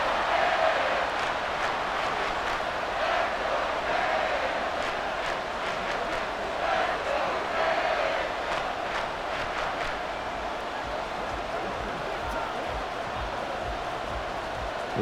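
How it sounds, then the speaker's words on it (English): Stadium crowd noise in the Madden 24 video game during a Denver Broncos at Miami Dolphins football matchup, a constant broad roar at a steady level with faint scattered cheers, and no clear talk. "This crowd turning up the decibel level."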